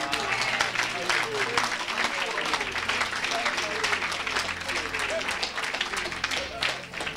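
An audience at a church service or evangelical gathering applauds and cheers for the Lord, a sustained burst of dense clapping with shouts mixed in, loud and continuous, with voices rising through it.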